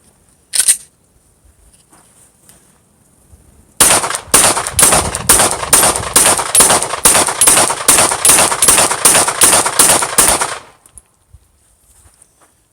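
A Glock Gen 5 pistol fitted with a Suarez Gen 4 slide fires one early shot, then after a pause a rapid string of about fourteen loud, close shots at a steady pace, ending in silence.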